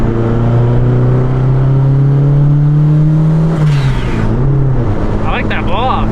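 A boosted Honda Civic hatchback with a turbo blow-off valve revs loudly and steadily, the engine tone dropping as the valve vents with a brief whoosh, close up.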